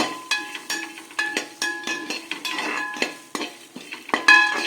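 A spatula scrapes and stirs grated coconut being dry roasted without ghee in a metal pan, repeated clinks and scratches in an irregular rhythm, close and fairly loud.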